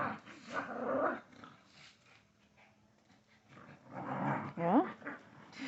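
Dogs at play, a small feisty one among them, growling and snarling in rough bursts with pauses between, fairly close, with a person talking over parts of it.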